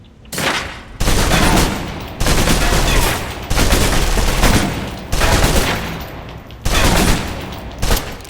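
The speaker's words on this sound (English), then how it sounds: "Now let's empty the clip. Let you get a feel for the recoil." Sustained bursts of automatic submachine gun fire from the video game Alpha Protocol, emptying a full magazine. Loud, rapid volleys come in several long strings separated by brief pauses.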